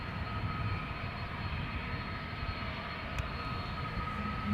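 A Delta Airlines Airbus A330-300 departs Schiphol Airport, its jet engines a distant, steady, broadband roar with a faint whine, fairly quiet and continuous throughout.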